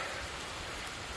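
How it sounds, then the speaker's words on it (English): Steady rain falls during a thunderstorm, giving a dense, even hiss of drops with no thunder or voices. "you can hear the rain coming down"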